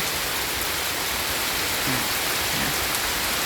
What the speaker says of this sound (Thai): ฟ้าเบาละตอนนี้ก็ฟังเสียงฝนกันค่ะ